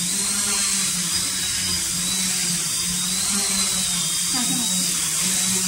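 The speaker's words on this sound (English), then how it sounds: "Once landed, the motors won't stop immediately." The motors of a RadioLink F450 quadcopter spin down after landing, a steady high-pitched electric whir that holds close and constant throughout.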